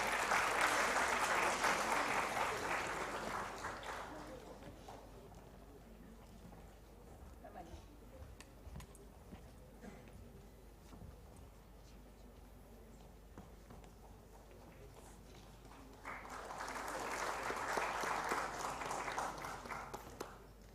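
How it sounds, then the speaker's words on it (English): An audience applauds an award-winning team at a conference award ceremony, with loud clapping at the start that fades out, a quieter stretch, then a second swell of applause near the end. "A huge round of applause, please."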